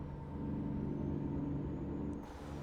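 A Peterbilt truck in American Truck Simulator drones along with a steady low engine rumble and road noise, ending in a short hiss, with no talk.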